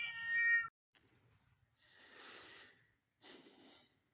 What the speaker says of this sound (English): right now I'm gonna feed these cats